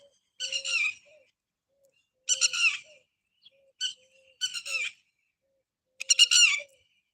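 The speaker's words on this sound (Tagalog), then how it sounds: "ang ingay ng mga ibon." Birds chirping outdoors during a walk to a store: five bursts of bright whistled, chattering calls in a regular pattern, close and distinct against a quiet background with no voices.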